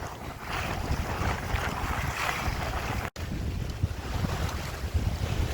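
A sailboat under way on open water near Piriac, with strong wind buffeting the microphone and waves washing continuously, no voices present.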